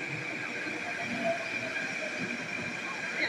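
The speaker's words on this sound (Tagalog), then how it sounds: "Ayan na yung train, padating na." A metro train arriving at a station in Athens, Greece, heard as a steady, loud rumble with a sustained high whine and hiss from the rails, continuous throughout with faint crowd noise beneath.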